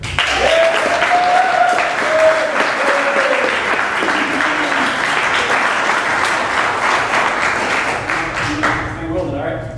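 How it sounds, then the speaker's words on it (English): A crowd at a live-action series premiere event applauds loudly and steadily. Some whoops and voices rise over the clapping, and it thins a little near the end. "Can I have a round of applause for Rick?"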